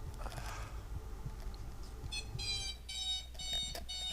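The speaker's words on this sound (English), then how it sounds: "There's a lovely alarm" An alarm clock going off during a late-night gaming session, a series of bright electronic beeping bursts starting midway and repeating in quick groups over a low background hum, fairly faint.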